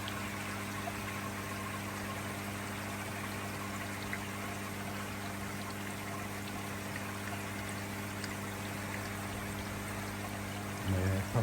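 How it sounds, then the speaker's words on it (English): A small 45-litre pump drives water through a DIY koi pond filter, giving a constant steady rush and trickle with a low mechanical hum underneath, unbroken and alone. "My pump is doing well as well on there. It's only a 45 litre, but it's pumping really well."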